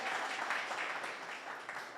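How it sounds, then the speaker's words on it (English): Brief applause from a conference audience, a soft wash of many hands clapping at moderate distance, fading slightly toward the end. "I think they deserve a round of applause for putting on an excellent conference."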